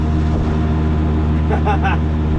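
An auto rickshaw engine labours uphill at about 30 km/h, a loud continuous drone with a steady low hum, and a brief voice-like tone partway through.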